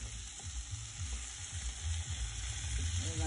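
Potatoes fry in curry sauce in a pan for Caribbean curry potato and channa, giving a close, steady, dense sizzle with soft stirring scrapes and no voices.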